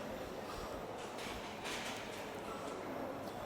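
Steady broadband rumble of a train in motion in York, England, continuous and fairly loud, with a brief swell partway through and no voices.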